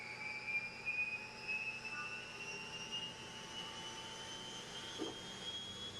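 An Army helicopter sits with its rotor spinning and engine running, giving a faint, steady turbine whine with a low, constant hum beneath it.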